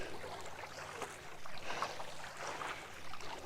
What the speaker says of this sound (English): I'm gonna keep on paddling this morning for this beautiful day here in Washington State